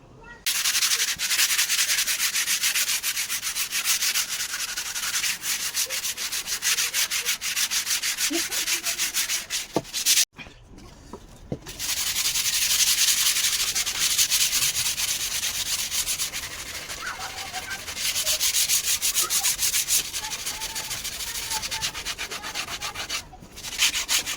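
Sandpaper rubs steadily over an old wooden cricket bat, a continuous scratchy hand-sanding sound lasting most of the time with one brief break midway.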